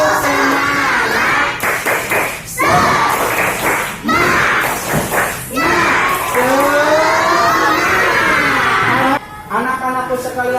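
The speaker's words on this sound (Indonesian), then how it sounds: "Kita tepuk semangat dulu yuk. Yuk, 1, 2, 3. Tepuk semangat." Classroom children chanting and clapping together in a rhythmic tepuk semangat cheer, loud and close, with bursts of group voices and claps filling the room throughout.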